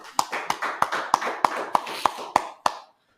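A class audience claps in slow unison, about nine sharp, evenly spaced claps roughly a third of a second apart over a murmur of background noise, then the clapping stops.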